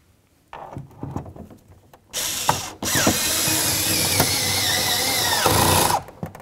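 Ratchet tightening two mounting bolts beneath the grab handle on a 1994–2004 Chevy S-10 door, heard close and loud as a steady run of rapid clicking that starts and stops in bursts with no talk.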